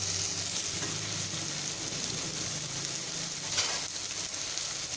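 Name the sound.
tomato sautéing in a pan for cashew curry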